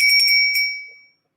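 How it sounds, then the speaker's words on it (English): A vintage fish-shaped bell gives a single bright ring at close range, its clear tone fading out in about a second with no talking. "And then we have a fish bell."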